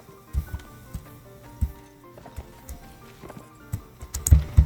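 Irregular video-game horse hoof clip-clops thud at a moderate pace, growing louder toward the end, over a quiet background.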